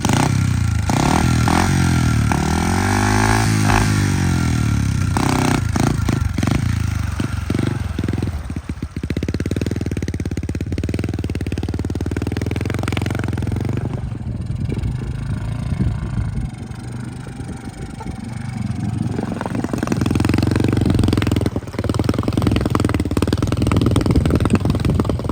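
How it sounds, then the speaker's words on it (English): Snorkeled pit bike engine running on choke with a stock 13mm carb, loud and close, with uneven revving and sputtering, then settling into a rough idle before revving up again. "Give it the first run."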